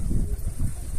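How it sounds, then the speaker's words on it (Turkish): Gusty outdoor wind buffets the microphone as low, uneven rumbling surges, with birds being fed nearby. "Rüzgar var, rüzgar."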